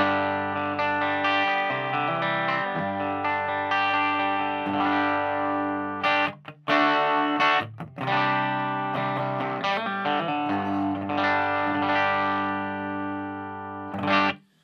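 Distorted electric guitar riff through a Quilter Blockdock 10TC cabinet in the tilt-back position, sustained chords with a few brief breaks, full and loud, no talking.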